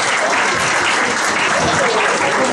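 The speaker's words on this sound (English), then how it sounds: "let's all once again give your loudest applause for our Miss Earth Fahrenheit 2012 candidates" A pageant audience applauds the Miss Earth Fahrenheit 2012 candidates with loud, dense clapping that holds steady and unbroken from start to finish, with no talk over it.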